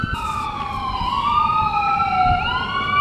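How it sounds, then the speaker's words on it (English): A wailing ambulance siren rises and falls in long sweeping tones, loud and fairly close, with a faint road rumble beneath it. "Oh, it's an ambulance."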